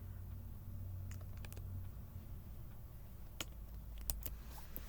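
Keys on a computer keyboard are tapped in short, scattered bursts of light clicks, quiet and close, over a low steady hum.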